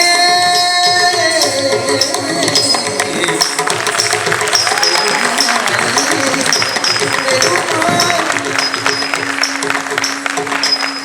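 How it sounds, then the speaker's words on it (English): An audience applauds after a Bharatanatyam dance performance at a festival, a sustained wash of crowd clapping with lingering musical tones and some voices mixed in. "Keep on clapping, guys, because this is very much difficult"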